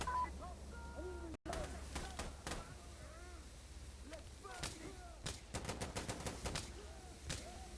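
Gunfire in the tactical shooter game Insurgency Sandstorm: scattered single shots early, then a dense run of rapid cracks like automatic fire, over quiet game ambience.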